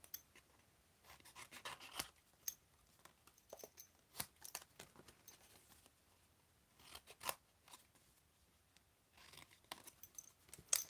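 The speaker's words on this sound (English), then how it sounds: "I'm going to cut them out" Scissors snipping freehand around small stamped paper pieces for a cactus-themed card project, quiet irregular bursts of short cuts with pauses between, close and faint.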